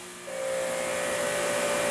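An electric RYOBI 2700 psi pressure washer, fitted with a nozzle giving about 2000 PSI, starts up and settles into a steady, loud motor-and-pump whine with a constant tone, running alone without any voices.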